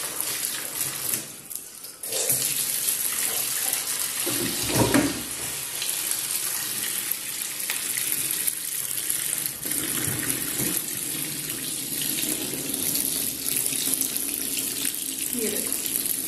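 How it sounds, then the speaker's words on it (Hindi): Water runs steadily from a pipe into a tub at home, a mix of hot and cold, a continuous broad gushing hiss lasting throughout at close range, with a brief splashy surge near the start. "इसी पाइप से भरता रहेगा, थोड़ा गर्म थोड़ा ठंडा पानी ऐसे ही चलता है घर पे"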